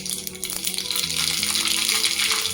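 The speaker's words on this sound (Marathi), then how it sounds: "आता त्याच्यामध्ये मी काय करते ही छोटा एक चमचाभर मोहरी टाकते" A spoonful of mustard seeds sizzles in hot oil with a dense, steady hiss and fine popping crackle, loud and close throughout.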